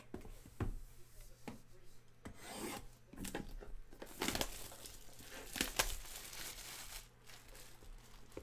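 Shrink wrap sliced and peeled off Upper Deck Hard Court Supreme basketball card boxes, giving close, intermittent bursts of crinkling plastic and scraping rasps over roughly eight seconds, with no one talking.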